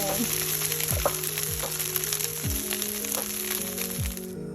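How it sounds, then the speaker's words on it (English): Idli pieces frying in oil in a pan for chili idli: a loud, steady, close sizzle with crackling, over a low background tone that steps and slides in pitch, cutting off abruptly at the end. "Let it fry for a few minutes."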